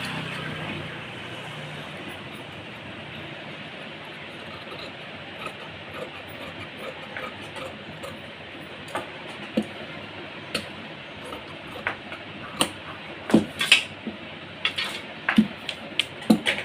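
Scissors snipping through blouse fabric on a cutting table, a low steady background hum broken by scattered sharp clicks and snips that grow louder and more frequent toward the end, with no voice.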